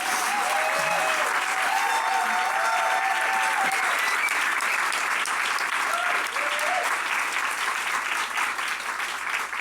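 Audience at an awards gala gives a long, steady round of applause, dense clapping throughout with a few voices and a cheer rising above it.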